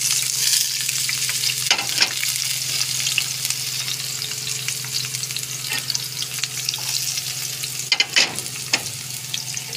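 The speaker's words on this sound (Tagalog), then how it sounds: "mainit na ang aking mantika. Lalagay ko na lahat ng ingredients." Chopsuey vegetables are sautéed together in hot oil, producing a steady, close, loud sizzle with occasional stirring scrapes and clatters throughout and no talking.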